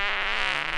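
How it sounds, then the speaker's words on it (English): A short, loud comedic fart sound effect, a single buzzy blast lasting under a second with no talk over it. "we do need to get a spoiler fart in here."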